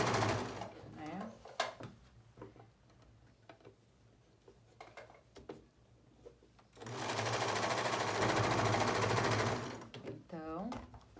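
A sewing machine runs a fine, narrow hem on a viscose dress: a loud, continuous whirring burst in the middle, with a few clicks and handling noises around it and a voice in the background.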